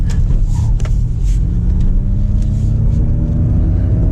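A 2022 Ford Mustang Mach-E electric car accelerates on a public road, a loud, steady low rumble of road and tyre noise with a faint electric whine rising in pitch as speed builds, heard from inside the cabin.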